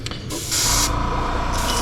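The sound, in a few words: spray painting a crankbait lure with pearlized white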